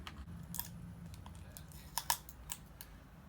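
Metal keys scraping and picking at a stubborn plastic film, giving a few sharp, brief scratches and clicks over a low, steady background hum.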